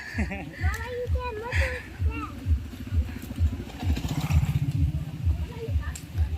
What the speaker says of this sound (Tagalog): Tabi, may motor.